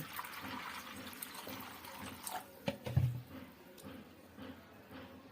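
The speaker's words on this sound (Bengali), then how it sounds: "ছোলাটাকে সিদ্ধ হওয়ার জন্য দিয়ে দিচ্ছি পরিমাণ মতো পানি" Water is poured into a pot of soaked, washed chickpeas set to boil, a soft trickling and splashing that swells briefly in the middle, then fades.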